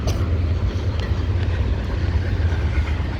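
BNSF intermodal freight train with heritage locomotives passing close by, a steady loud rumble of wheels and cars rolling along the rails without pause.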